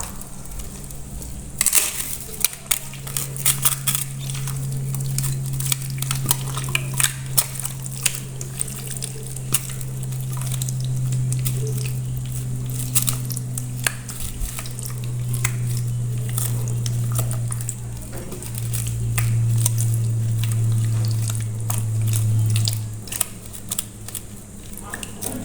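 Thin kebab meat being hand-mixed with mustard oil, a steady run of close wet squishing and squelching, with a low hum underneath throughout.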